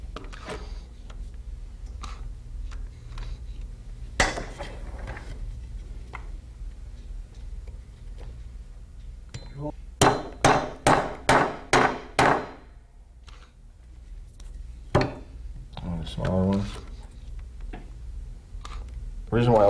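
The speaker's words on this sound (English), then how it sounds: "Go ahead and hammer them right into this piece of wood." Hammer blows drive small and large nails into a piece of wood, a quick run of about six sharp strikes in a row, with scattered knocks earlier and later, all under talk in a room.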